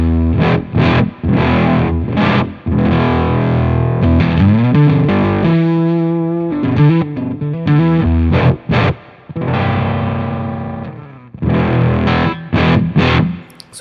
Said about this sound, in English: So this is that octave circuit.